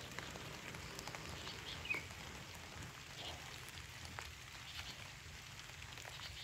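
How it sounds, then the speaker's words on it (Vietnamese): Light drizzling rain falls in a rose garden, a faint, even patter of small drops with a soft hiss, steady and distant, with no voices. "Hôm nay trời mưa lâm râm"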